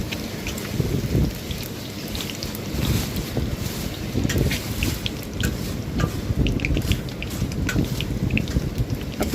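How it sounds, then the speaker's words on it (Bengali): Eggs frying in oil in a pan give a continuous, fairly loud sizzle, with scattered sharp crackles and pops over a dense, hissing wash of sound and no talking. "ডিমগুলো এখন একটু ভালো করে ভেজে নেব"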